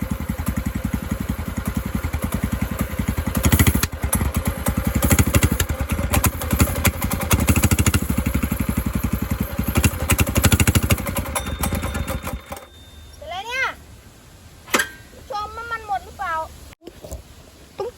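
A mini bike's small engine runs with a raspy, rattling note through a homemade exhaust for about twelve seconds, then cuts out, leaving a voice talking over quieter background.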